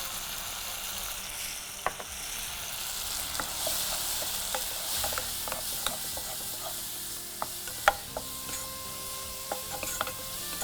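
Chilli powder and coriander powder fry in a pan with a soft, steady sizzle, while a spoon stirs and scrapes against the metal in scattered sharp clicks, quiet and close, with no talking.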